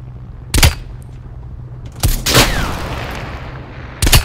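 Sharp gunshots ring out in Call of Duty: Black Ops Cold War, three loud separate bursts spaced a second or two apart, the middle one trailing into a short echo.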